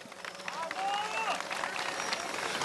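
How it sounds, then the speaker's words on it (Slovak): A crowd claps at the start of a charity cycling stage in the town of Detva, steady outdoor applause with scattered cheers and voices mixed in throughout. "Veľký potlesk!"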